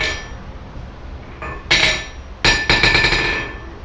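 Hammer, a cheap roughly two-pound one, strikes a hard unyielding surface a few times: sharp metallic clinks in quick succession with a brief ring, close and loud, no talk.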